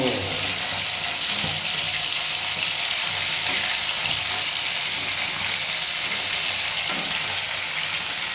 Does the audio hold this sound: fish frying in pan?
yes